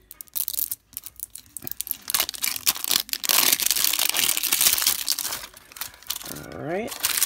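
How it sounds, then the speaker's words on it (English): Plastic packaging wrap being torn and peeled off a craft store haul item, close crinkling and ripping in uneven bursts, with a short voice near the end. "Now here's the other layer of plastic off."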